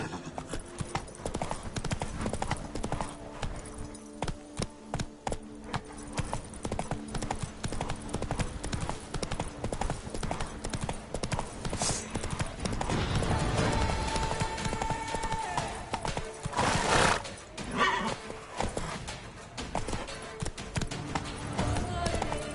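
Roach, the horse in The Witcher 3: Blood and Wine, gallops with steady loud hoofbeat clip-clops throughout, a brief whinny rising near the end amid game music and ambience.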